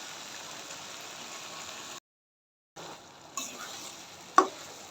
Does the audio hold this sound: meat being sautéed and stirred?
yes